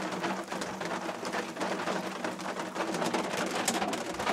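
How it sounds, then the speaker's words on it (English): Steady rain pours down during a thunderstorm, heard from inside a hunting box on a pig hunt, a dense continuous hiss of drops drumming on surfaces with no voices and no distinct thunder. "And it's raining, thunderstorms."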